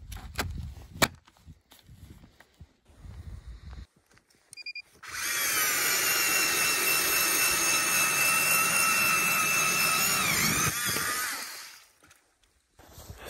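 A power auger bores through lake ice for ice fishing in winter wilderness, a few scattered knocks and crunches giving way to a loud, steady grinding whine that runs about six seconds before stopping abruptly.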